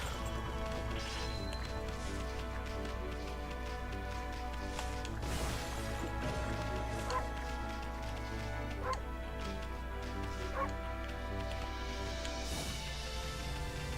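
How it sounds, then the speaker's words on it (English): In the video game Okami HD, a wolf gives a few short barks over steady game music and ambient sound, with a sharp crash-like hit partway through. "Maybe they only get startled when I bark at night."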